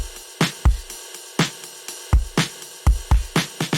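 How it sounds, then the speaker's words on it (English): Kick and snare in a steady groove with a washy metallic ride cymbal shimmer sustained underneath the hits. "I also added this ride cymbal"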